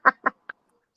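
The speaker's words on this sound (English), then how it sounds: "Yeah, that tweet is the bird outside." A bird calls outside a house: three short, harsh, quack-like calls, the first two louder and close together, the third briefer and softer, followed by near silence.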